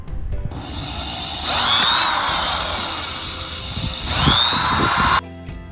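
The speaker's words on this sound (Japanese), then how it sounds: "電気ドリルの回転数を上げます。" Electric drill boring a roughly 3.2 mm hole for a camper entrance screen-door handle, a steady high whine that rises in speed in two loud bursts, alone with no talk.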